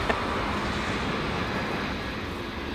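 Delta Airlines plane heading to Minneapolis at LAX, a dense steady jet engine rumble and roar, loud and unbroken for the whole moment.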